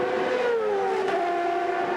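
1996 CART race cars at the Detroit street circuit, a sustained high-pitched engine whine that drops steadily in pitch as the cars brake, loud and continuous with no voices.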